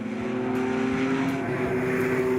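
A Porsche 911 RSR race car at speed on a circuit, its engine a loud, steady high drone with a sustained tone and no break across the stretch, close to the listener.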